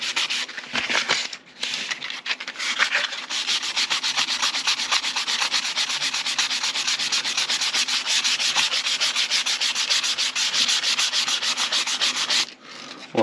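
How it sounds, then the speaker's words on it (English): Sandpaper rubbed back and forth along a wooden dowel, shaping a tapered bowsprit for a US Brig Syren model ship, a close, steady rasping scrape in quick repeated strokes with a couple of short pauses, no talking. "Start to get the taper going, then you can come back with some sandpaper and finish it off."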